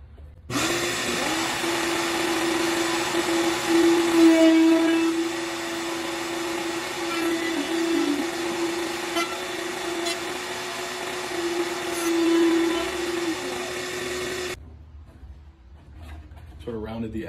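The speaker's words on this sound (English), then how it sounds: "we're over at the router table now. I have a round over bit in and my fence set up" A router table with a round over bit shapes a wooden edge for cube organizer boxes, a steady loud motor whine with a fixed pitch that holds for about fourteen seconds and then cuts off abruptly.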